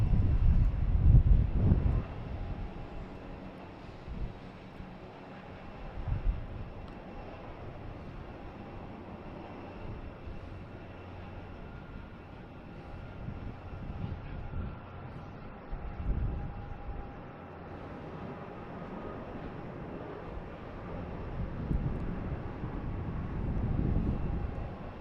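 A JetBlue airliner rolls slowly down the runway at Boston Logan Airport, giving off a steady, distant jet-engine rumble with low swells that rise and fall across the stretch.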